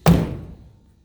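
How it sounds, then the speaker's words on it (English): A single solid thunk sounds as the car door of a 1966 Buick Wildcat GS shuts, close and sharp, then dies away quickly. "Doors."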